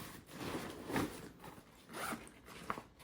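Zipper on a Summit limited-edition backpack being opened and closed, several short rasping pulls close by with soft rustling of the pack's fabric between them, no talking.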